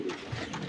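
Soft, low cooing from fancy pigeons, a brief murmuring call close by against a faint background hum.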